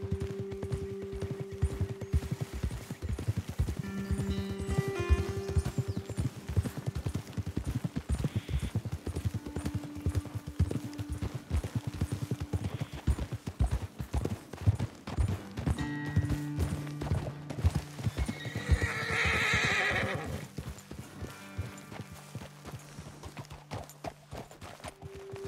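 Horses walk along a trail in the game Red Dead Redemption 2, their hooves clip-clopping steadily and close throughout, with faint tonal background music and a brief whinny-like sound near the end.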